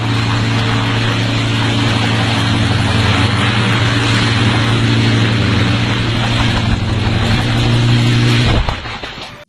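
Homemade helicopter built from recycled parts by a motorcycle mechanic, on a test run: a loud, steady droning engine and rotor hum that holds for about eight seconds, then abruptly cuts off with a brief clatter and fades.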